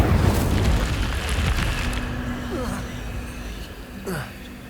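Incendio fire spell cast in a Harry Potter video game, a burst of whooshing flame with a rumbling boom that fades over a few seconds, followed by a softer magical swish, with a voice speaking over it.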